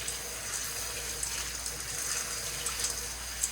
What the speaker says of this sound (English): I'm washing my split peas.